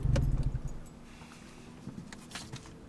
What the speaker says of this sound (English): we'll switch off the car